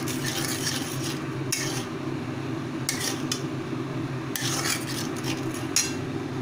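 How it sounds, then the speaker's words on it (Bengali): Spice masala with salt being stirred and fried in a pan over a low gas flame for an achari dish, a steady scraping stir under a soft constant sizzle, with a few louder scrapes of the spoon against the pan. "গ্যাসটাকে সিম করে রেখে ভালোভাবে মশলাটাকে কষাতে থাকতে হবে"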